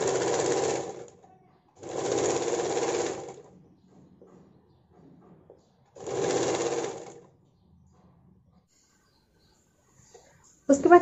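Sewing machine stitching a sleeveless blouse, running in three distinct bursts of about one to one and a half seconds each with quiet gaps between, fairly loud and close, with faint handling noises in the pauses.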